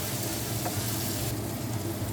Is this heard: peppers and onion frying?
yes